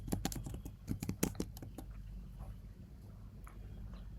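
Quick typing on a computer keyboard while entering a search in a cloud console, a fast burst of close, crisp key clicks that thins to a few scattered taps, no voices.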